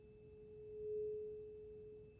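A steady pure tone at the pitch of an A note, sounded for a speed-of-sound standing-wave lab, swells slightly louder near the middle and holds alone against faint room noise.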